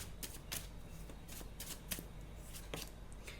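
A deck of tarot cards is shuffled in a run of quick, crisp riffling bursts, close and fairly quiet, with no talk.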